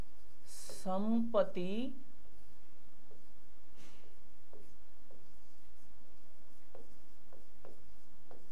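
A pen writes notes during a Hindi lecture on municipal law. Faint, scattered scratches and taps come at an irregular pace after a brief spoken word, in an otherwise quiet room.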